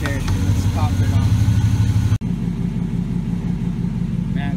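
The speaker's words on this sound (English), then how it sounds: "this truck sounds nice" A 2005 Cadillac Escalade with the 6.0 V8 running during a radiator replacement, a low, steady rumble close by with a brief dropout partway through.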